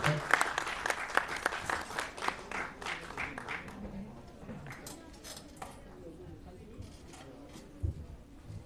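Applause welcoming Irfan Khan at a youth Urdu mushaira, brisk clapping at the start that thins out after a few seconds, with clinks of cutlery and dishes and murmuring voices underneath.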